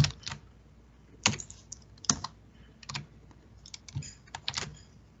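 A computer keyboard is typed on in a few sparse, separate keystrokes, soft and close in an otherwise quiet room.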